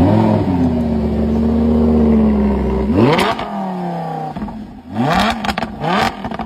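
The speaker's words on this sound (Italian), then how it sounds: "E adesso vi faccio sentire anche una sgasatina." A Lamborghini Huracan Spider with 13,000 km idles with a deep, steady burble, then its engine is blipped twice in sharp, loud revs that rise and fall back to idle.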